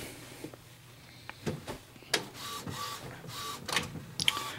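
An Epson XP600 all-in-one printer runs its initialization cycle: whirring motor passes, mechanical clicks and short sliding clunks come in irregular bursts, close and moderately loud.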